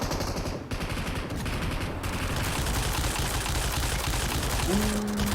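Sustained automatic gunfire in the video game Fortnite, a dense continuous rattle of rapid shots filling the clip loudly with no pause, and no speech.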